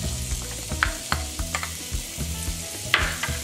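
Half a finely chopped onion frying in a pan with cauliflower and spices, giving a steady sizzle broken by scattered clicks and scrapes from stirring, close up with no talking.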